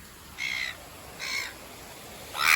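Three harsh, short calls in a row from agitated gulls defending their nest, moderately loud against a steady background hiss.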